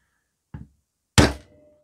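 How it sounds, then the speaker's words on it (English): A heavy hammer strikes twice on the screws of a Wltoys RC car motor mount: a light tap, then a louder, sharper metallic bang with a brief ring, both close and with no talk. "Now what I do is I get a heavy object like a hammer,"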